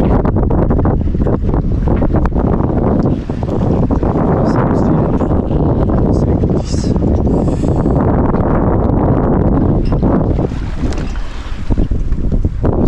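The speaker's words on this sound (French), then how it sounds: "Et le vent se maintient un peu." Steady, loud wind rushing across the microphone aboard a sailboat under sail, with a constant broadband roar, water and hull noise churning underneath throughout.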